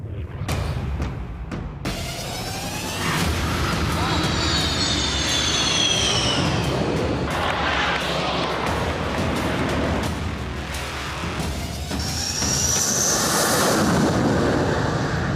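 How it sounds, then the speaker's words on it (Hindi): Sukhoi 30 MKI fighter jets fly low over an expressway, their loud roaring engines swelling in two passes, one in the middle and one near the end, with no talk. "देश का सबसे खतरनाक फाइटर प्लेन सुखोई 30 MKI पहली बार किसी हाईवे पर उतरा।"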